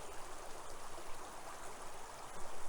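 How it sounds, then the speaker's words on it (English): Stream water flowing steadily over a spot at a historical recovery site, a continuous close rushing and gurgling wash with no voices. "And the water flows right over it."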